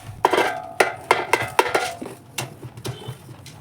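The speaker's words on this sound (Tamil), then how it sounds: "நம்ம கையை போட்டு தான் நம்ம கலக்க போகிறோம்." Shallot vadagam ingredients mixed by hand in a vessel, giving a series of close clinks and knocks against the metal at an irregular pace, with no voices.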